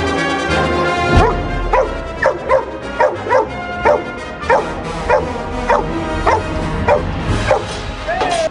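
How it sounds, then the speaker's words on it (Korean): A rescue dog trained for search work barks repeatedly in steady, evenly spaced woofs mixed with whiny yips, close and loud, with faint talking underneath. "이제 계속 짖는 거죠"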